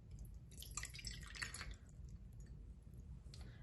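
Water trickles and drips into a bowl while paper mache is being prepared, a faint, close, continuous splashing with small droplet patters and no talking.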